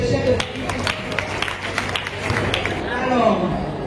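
Wedding guests clap at a civil ceremony, scattered and uneven hand claps under loud chatter and voices, growing livelier toward the end.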